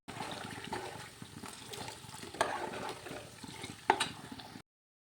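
A soft, steady sizzle of hot ghee crackles throughout in a wok, with a couple of brief clinks or pops standing out; no talking.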